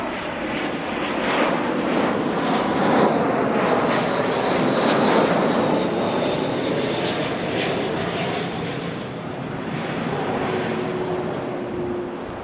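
A Jetstar passenger jet arriving at Auckland Airport from Christchurch, its engines giving a loud, steady broadband roar with some wind noise throughout, and no talk.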